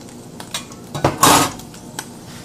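Egg foo young patties being lifted out of a pan, with several sharp metal clanks and scrapes of a utensil against the cookware and one louder clatter midway.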